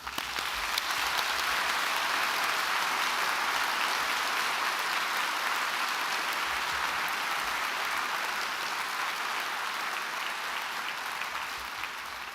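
Sustained applause from a large audience at a Dublin City University autumn graduation ceremony, a dense, steady wash of clapping that holds at full level for about twelve seconds before easing slightly at the end.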